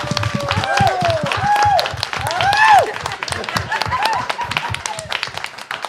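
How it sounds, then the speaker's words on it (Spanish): A studio audience gives a strong round of applause welcoming the guest Maskatesta, with rapid rhythmic clapping, likely accompanied by whoops or music, running under speech throughout. "recibir con un fuerte aplauso a Mascatesta"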